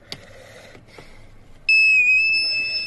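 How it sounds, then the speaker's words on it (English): A transmission reset tool plugged into a VW Polo with a DQ200 gearbox gives a loud, steady electronic beep, close by, after a few quiet clicks and faint handling noises. "So it beeps."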